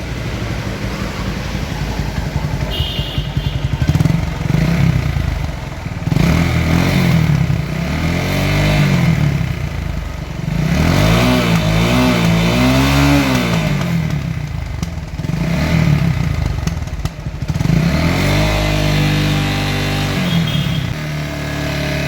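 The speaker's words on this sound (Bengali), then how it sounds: "এখন আপনাদেরকে ইঞ্জিনের সাউন্ড শোনানো হবে।" A second-hand Runner Bolt 165R motorcycle engine runs close by, idling with a rough clatter and rising and falling through several repeated throttle revs, loud and steady with no talk.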